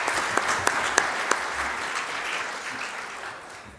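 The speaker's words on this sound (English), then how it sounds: "Let's give another round of applause for all three of these gentlemen." Conference audience applauds a panel of three guests at a housing policy meeting, with a few sharp individual claps standing out early before the clapping thins and fades over a few seconds.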